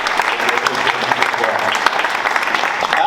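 Loud, dense applause fills a hall at a district address, many hands clapping steadily and close for the whole stretch, with voices faintly mixed in.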